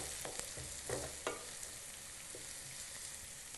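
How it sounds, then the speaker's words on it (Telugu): Chopped onions hit hot oil with cumin seeds for a mutton and drumstick curry, producing a faint, even sizzle after a few quick clinks and stirs at the start. "జీలకర్ర వేగుతూ ఉండగానే ఇందులో కట్ చేసుకున్న ఆనియన్స్ వేసాను. ఆనియన్స్ వేసి ఒకసారి బాగా కలపాలి"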